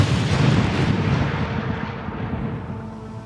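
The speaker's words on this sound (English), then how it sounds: "There was a bit of a countdown and then the big bang." A large explosive demolition blast brings down a structure, heard as a loud rumbling boom that rolls and slowly fades over a few seconds.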